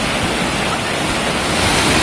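The Kamyshlinsky waterfall, 12 metres high, roars as a steady, loud, close wash of falling water with no break and no voices.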